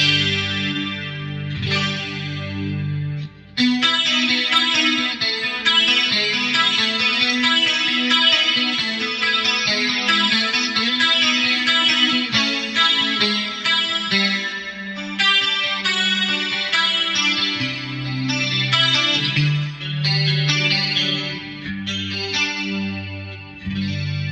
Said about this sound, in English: Let's put on the TriStereo Chorus.